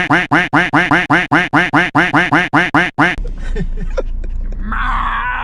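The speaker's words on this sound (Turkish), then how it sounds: "Orada o ördek yırtılıyor." Loud, rapid duck quacks repeat in a steady series of about a dozen honks, then stop abruptly, leaving faint background noise and distant murmurs.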